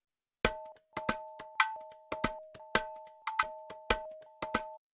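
A percussion loop of sharp cowbell-like hits is processed with the PSP Hertz Rider plugin. The hits fall in a steady rhythm, each with a short decaying tail, while faint sustained tones sit beneath them.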